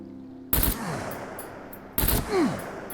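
Gunfire in the video game SCUM strikes equipment boxes: two loud, sharp shots about a second and a half apart, each with a short ringing tail, and a whooshing sweep after the second.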